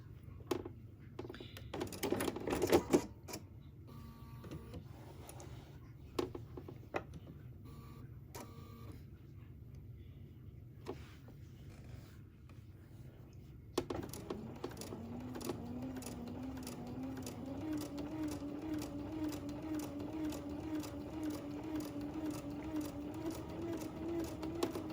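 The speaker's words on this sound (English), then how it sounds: "this is where I'm going to stop and back stitch a little bit" A sewing machine stitches an in-the-hoop project, backing up to reinforce the seam: scattered clicks and taps give way to a steady mechanical whir with a rising tonal hum, moderately quiet and continuous with no talking.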